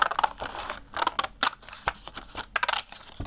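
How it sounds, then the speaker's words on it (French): Repeated crisp snips of scissors cutting through paper, in quick irregular bursts with short pauses between, close and fairly clear. "Je découpe en gros parce qu'après je l'ai fait avec les petits ciseaux."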